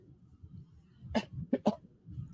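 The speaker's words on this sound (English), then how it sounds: "excuse me, I've had a cough for like 6 months" Three dry coughs from a months-long cough, close by, one then a quick pair, over a low background murmur.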